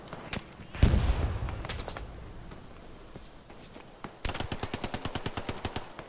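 Rapid bursts of machine gun fire in Hell Let Loose, with a loud explosion-like blast early on, then a steady rhythmic volley of shots near the end.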